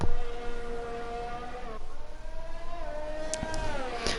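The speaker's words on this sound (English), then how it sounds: "The sound of those cars." Racing car engines in a video game during a Formula-style race at the Australian Grand Prix circuit, a steady droning whine that shifts pitch with upshifts and downshifts, fairly loud and continuous with no talk over it.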